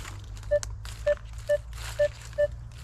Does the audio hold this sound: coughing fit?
no